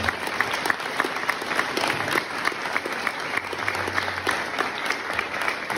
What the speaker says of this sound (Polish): Brawa wskazane!